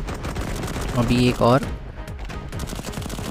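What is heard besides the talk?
gunfire in a shooter video game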